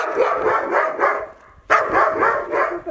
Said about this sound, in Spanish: Un perro más malo.